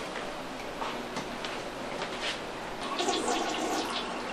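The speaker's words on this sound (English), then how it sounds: "make sure you flush the toilet completely" A household toilet flushes in a steady, hissing rush of draining water that fills the whole few seconds at moderate volume, heard alone in a room being prepared for tile work.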